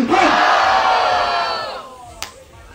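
A crowd at a Brazilian freestyle rap battle erupts in loud, sustained cheering and shouting that swells at once and then fades over about two seconds, ending with a single sharp smack.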